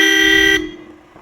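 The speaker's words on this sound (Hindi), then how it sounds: "देख दे कैसे हॉर्न बज रहे हैं।" A Roots horn fitted to a Hero Splendor motorcycle blares one loud, bright, steady honk for about half a second, then cuts off with a short fading tail.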